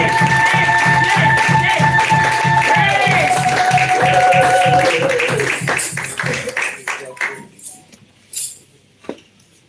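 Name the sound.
church congregation applauding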